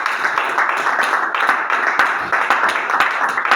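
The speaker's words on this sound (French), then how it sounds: "Applaudis très fort." Sustained loud applause from a church congregation, a continuous wash of many hands clapping with a few sharper individual claps standing out throughout.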